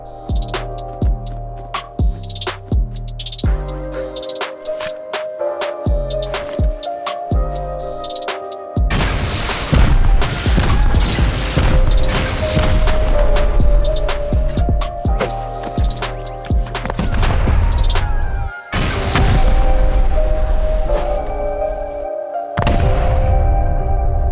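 Rockets repeatedly slam into a stone wall in the game Rust, loud booming blasts in rapid succession with rumbling debris and mechanical hum between impacts, growing into a sustained barrage.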